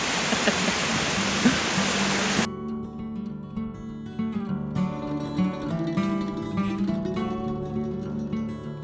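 A waterfall on a New England fall road trip gives a loud, dense, steady rush for a couple of seconds before it cuts abruptly to music.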